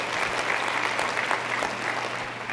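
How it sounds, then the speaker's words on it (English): An audience at a real estate business talk bursts into sustained applause, a dense, even wash of clapping hands filling the room for a few seconds with no voices over it. "As much as I love the applause"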